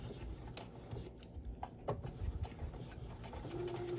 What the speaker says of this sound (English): now I'm going to go across here, and when I get to the end, I'm going to back stitch